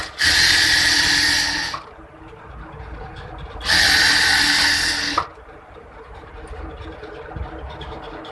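An electric sewing machine stitches elastic into a salwar waistband in two loud whirring runs of about two seconds each, separated by a quieter pause with faint handling noise.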